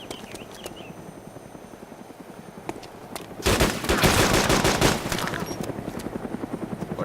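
In Arma 2 DayZ Mod, a helicopter rotor chops along under rapid bursts of gunfire, which grow loud and dense midway before easing into a steady thudding drone.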